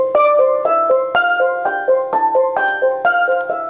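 A scale is played slowly and cleanly, note by note, returning again and again to C. Each tone is plucked and clear with a bright, ringing attack, close and fairly loud, and no voices are heard.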